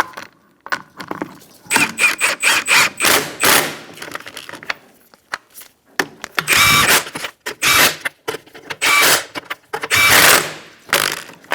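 Wheel lug nuts being run down and tightened on a 2004-2009 Mazda 3 after a front right CV axle replacement: repeated metallic ratcheting and clanking bursts, close and fairly loud, with short pauses between them and no talk.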